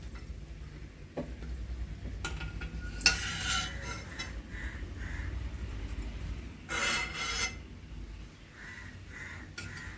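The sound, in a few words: frying onions in oil for upma premix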